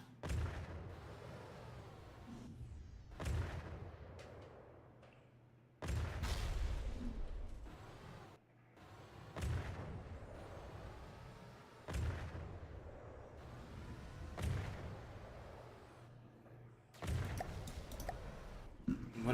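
Heavy game weapon firing repeatedly, a series of sharp, booming cannon-like shots spaced a few seconds apart, each followed by a rumbling decay, with faint clicking in the gaps.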